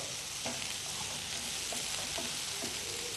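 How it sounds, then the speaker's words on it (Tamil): Steady, hissing sizzle of onions frying in a pan, with faint scraping of a utensil stirring now and then. "வெங்காயமும் ஒன்று நல்லா ஃப்ரை பண்ணணும்"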